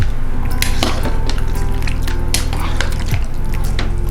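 Oxtail ingredients with tomato paste and Worcestershire sauce are being stirred together in a crockpot, giving a run of scraping, clinking spoon-on-pot knocks and wet squelches, close and steady throughout.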